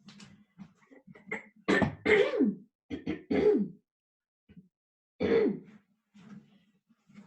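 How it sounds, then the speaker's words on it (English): Several rough, gravelly throat clearings come in short bursts close to the mic, with quiet pauses between them. "I'm going to clear my throat for 1 second"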